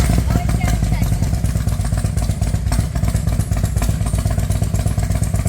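A used Harley-Davidson motorcycle engine runs steadily close by, a continuous low rumbling idle with a clattery pulse throughout, with a voice heard over it.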